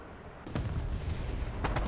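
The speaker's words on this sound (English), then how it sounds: "Oh, we got artillery." Artillery fire in a tank battle video game: a deep, booming blast hits about halfway through, and a second heavy impact follows near the end over a constant low rumble.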